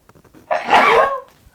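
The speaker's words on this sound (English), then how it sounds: "I definitely have to sneeze" A single close, sharp human sneeze bursting out after a brief inhale, loud for about half a second and then tailing off into quiet.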